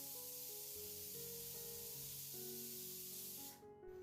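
Steam hisses steadily from a pressure cooker whistle while dal and baati cook, a loud continuous spray-like rush lasting several seconds before cutting off abruptly near the end.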